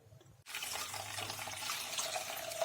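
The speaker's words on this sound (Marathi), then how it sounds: "डाळ थोडीशी कोमट झाल्यानंतर त्याच्यातील पाणी मी ओतून काढणार आहे" Water from a pot of cooked, cooled lentils being poured off for puran poli, a steady continuous splashing stream that starts abruptly and runs on without a break, close and fairly loud.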